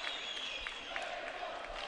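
An Azerbaijani crowd at a boxing bout cheers on Timur Mamadov with a steady roar of noise and scattered claps, while a commentator talks over it.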